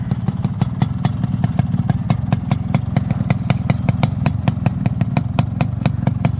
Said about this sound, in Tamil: இன்ஜின் நாய்ஸ் அப்படியே பொறுமையாக கேளுங்க